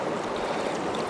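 River water rushing through a chute on the Thompson River in Gippsland, Victoria, Australia, a steady close broadband wash heard alone in a brief burst.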